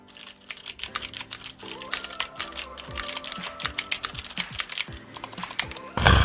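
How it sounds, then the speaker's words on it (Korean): Typing on an MX Board 3.0S keyboard with blue clicky switches, a fast, steady stream of sharp close key clicks and clacks that goes on throughout, with a louder thump at the end. "청축 같은 경우는 원래 딸깍딸깍 이런 소리가 나죠."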